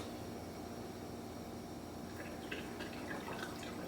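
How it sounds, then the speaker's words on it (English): Juice from a masticating juicer is poured into a jar, a faint trickle and drip of liquid starting partway through over a steady background hum, quiet and close. "So I'm going to go ahead and pour this juice"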